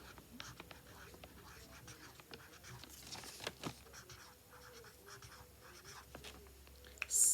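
A pencil scratches across paper while a dictated phrase is written out, faint and close, with light strokes and a soft whisper or two in the background.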